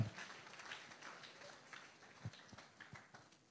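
An audience at a public lecture gives a round of applause, faint and distant, with a thin patter of clapping and a few sharper claps scattered through it.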